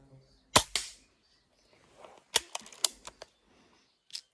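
Several sharp, snappy shots from a Hatsan Mod. 25 air pistol: two close together, then a quick cluster of four or five, and one more after a pause, in a quiet setting.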